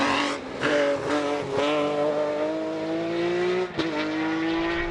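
Audi race car engine at full song during an asphalt championship race, a loud sustained high-pitched roar with rising pitch through the gears and brief dips at each shift, close and continuous.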